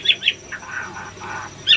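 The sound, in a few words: oriental magpie-robin (murai batu) chirping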